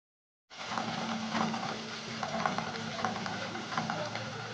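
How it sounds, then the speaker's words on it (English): Beef liver and peppers stir-fry in a pan, giving a steady soft sizzle with faint stirring clicks after a brief silent start, close and fairly quiet with no talk. "Next, I'll add the peppers and continue to stir fry."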